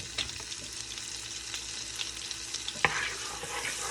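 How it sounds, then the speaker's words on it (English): Beef base stirred into hot oil and butter in a pan gives a steady close sizzle and fry hiss throughout, with a few soft utensil scrapes and one sharper clink near the end. "So I'm just mixing in that beef base with that oil and that butter"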